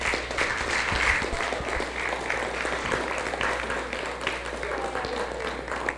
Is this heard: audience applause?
yes